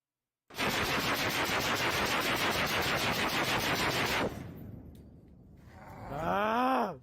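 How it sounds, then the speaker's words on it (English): Grenade launcher firing in an urban area, heard as a sustained, rapid, loud burst of dense thumping blasts that cuts off abruptly, followed by a quieter lull and then a rising, groaning voice-like moan. "the Chechens are using a grenade launcher in an urban area"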